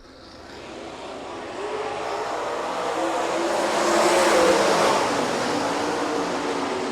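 360 sprint cars race in a heat at Rapid Speedway, a broad roaring engine wash that builds as the pack sweeps past, peaks loudly, then eases off slightly, with no talk over it.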